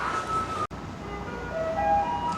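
A Taiwanese garbage truck passes while playing its melody, a steady electronic tune carried over street rumble at moderate distance, briefly cut by a short gap, with no one speaking.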